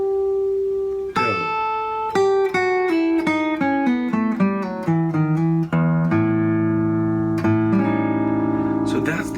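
Guitar plays the Lydian dominant scale note by note, a steady run of plucked tones stepping through the scale with a few longer held notes, close and clear with no talking.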